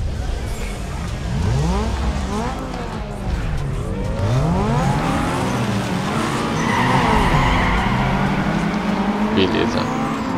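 A Honda Civic races in Need for Speed Underground 2, engine revving through rising and falling gear sweeps with repeated tire skids and squeals, loud and close, a voice talking over it.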